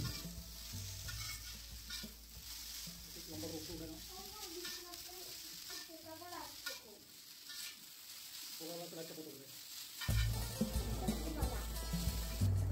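Chow mein noodles and vegetables sizzle and fry in a pan as they are stirred, a steady hiss with scraping, and a louder burst of sizzling near the end; a voice talks faintly beneath.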